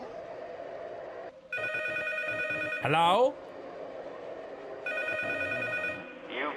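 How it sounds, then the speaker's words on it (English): A telephone rings in the horror game P.T. with a bright trilling bell in two bursts. Background rumble runs between them, and a voice answers between the rings. "and then the phone rings"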